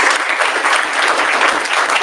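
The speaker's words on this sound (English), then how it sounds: "Round of applause for Stephanie." An audience at a Brighton AI community event applauds a speaker. The clapping is loud and dense, sounds close, and carries on without a break the whole time.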